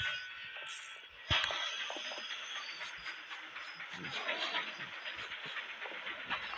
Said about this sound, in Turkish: Tren beni bekle tren.